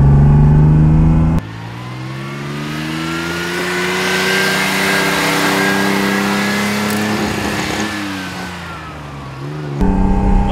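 A 1973 Ferrari Dino 246 GT engine in the Forza racing game revs loudly, its tone climbing and holding in a smooth, sustained howl before easing back, with a cut to idle at each end.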